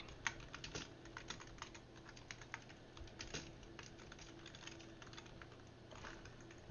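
Typing on a computer keyboard, quiet irregular clicks and taps in short bursts, close by and fairly faint, with no voice.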